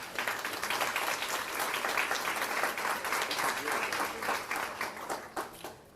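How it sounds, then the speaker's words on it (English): Audience applause at an early childhood school ribbon-cutting ceremony, a steady wash of many hands clapping that fades toward the end. "So I want to give them a round of applause as well."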